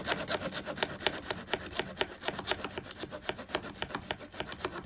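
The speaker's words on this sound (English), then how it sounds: "I'm just using a small hacksaw for this" A small hacksaw cuts through plastic D-line trunking in quick, even rasping strokes, close and fairly quiet, with a steady back-and-forth rhythm and no talk.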